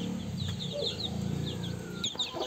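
A calm free-range hen clucking softly with her chicks peeping high and repeatedly around her, close by on a farm.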